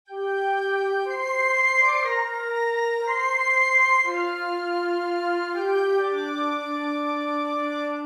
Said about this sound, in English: let's take the oboes out and let's put clarinets a three